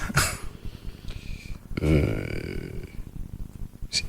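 A man makes a loud burp-like vocal sound, joked about as a fish burp, in a radio studio. One strong gurgling burst sits mid-clip between shorter bursts and room noise.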